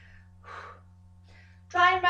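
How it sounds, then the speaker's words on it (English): A person gasps for breath while holding a Magic Circle exercise position, giving short breathy sounds followed by a louder strained voiced exhale near the end, close and fairly quiet, with a steady low hum underneath. "Hence why I'm gasping a little bit, because it's not easy to do all those things together in that position."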